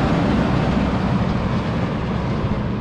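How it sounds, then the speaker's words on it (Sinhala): A heavy road train truck on an outback Australian road passes close by as a loud, continuous low roar and rush that holds steady throughout. "දැන් මේ තියෙන්නේ රෝඩ් ට්‍රේන් එකක්"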